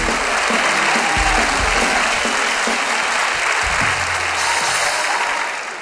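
Audience applause on a comedy show: dense, loud, continuous clapping from a crowd, steady for several seconds and tapering slightly at the end.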